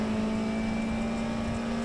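A classic race car laps Knockhill circuit at a Scottish Classics meeting, its engine a steady, loud drone with a fixed tone held throughout and no voices.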